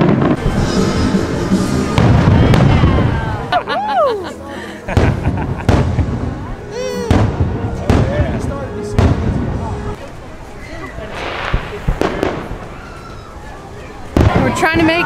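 Fireworks pop and boom repeatedly at a theme park, some whistling as they rise, while people chatter and exclaim close by.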